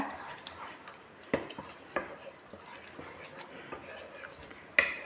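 Beetroot jam with melting butter is stirred in a pan: soft, quiet scraping broken by a few sharp spoon clinks against the metal, under a faint low simmer.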